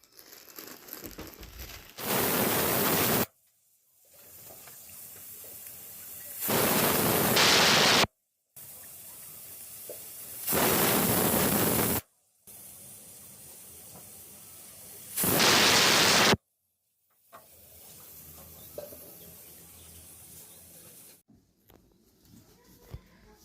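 A pressure cooker cooking khichuri lets out four loud bursts of steam hiss, each lasting a second or two, separated by quieter stretches of low background noise.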